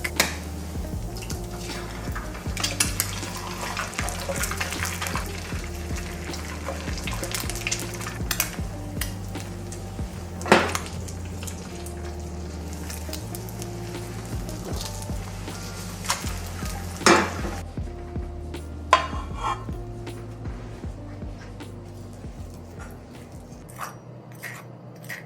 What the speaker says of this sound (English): That sound was the fried cheese.